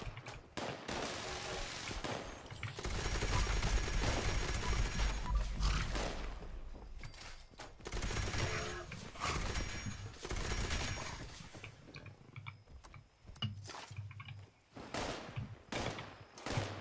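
Rapid automatic gunfire from a weapon in the video game Fallout 76, with sustained bursts of shots that stop and restart. Some sharper single cracks come near the end.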